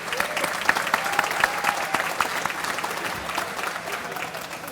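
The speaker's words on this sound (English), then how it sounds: "I'd like to give a little thanks and a round of applause to our caterers and the food preparers for a great job for the meal." A banquet audience at a polo museum hall of fame induction ceremony applauds the caterers, dense continuous clapping from a sizable crowd filling the room at steady strength.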